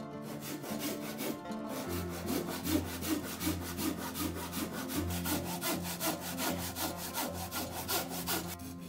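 A saw cuts diagonally through a cedar headboard, steady back-and-forth rasping strokes repeating loud and close for the whole stretch, with no talk.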